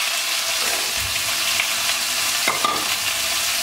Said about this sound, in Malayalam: ഇനി ഇതിലേക്ക് ചതച്ച് വെച്ചേക്കണ വെളുത്തുള്ളിയും ചുവന്നുള്ളിയും ചേർക്കാം